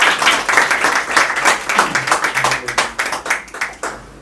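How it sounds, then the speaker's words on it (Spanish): Applause for Ledwin at a book launch fills the room, dense clapping from an audience that thins into scattered claps toward the end, with no voices over it. "un aplauso para Ledwin"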